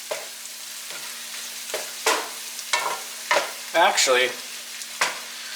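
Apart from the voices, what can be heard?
mushrooms sautéing in a pan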